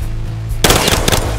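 Automatic gunfire from the video game Battlefield Hardline on PS5 bursts in loudly after a brief low ambient hum, a dense, rapid stream of shots that continues to the end.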